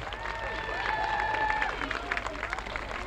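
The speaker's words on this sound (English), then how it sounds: "can we have a big round of applause, please, for the Watford Eclipse Majorettes" Outdoor crowd applauding the Watford Eclipse Majorettes at a charity walk, a steady wash of clapping with scattered cheers and voices mixed in, moderately loud throughout.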